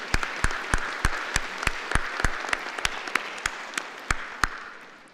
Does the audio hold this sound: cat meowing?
no